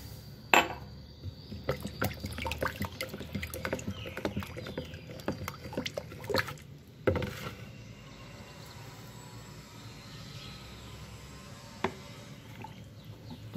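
Dissolved lye (caustic soda solution) poured into oil and blended orange-peel mixture for homemade soap, a steady liquid trickle and splashy pouring with a few sharp knocks near the start and around the middle, close up with no talking.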